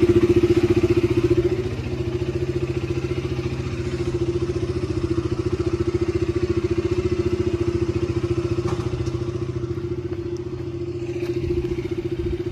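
A motorcycle runs steadily nearby, its engine giving a continuous low, even putter with a faint rattle as it is taken out and ridden, holding a constant level throughout.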